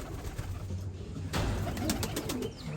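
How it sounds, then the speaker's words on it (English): Racing pigeons coo close by in a loft, soft low repeated coos over a steady murmur, with a brief rustle or flutter partway through. "Let's see how the racing pigeons are doing."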